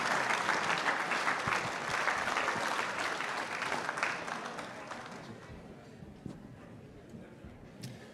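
Audience applause for Hall of Fame football inductees rings out as a dense clapping roar that gradually thins and fades to a few scattered claps.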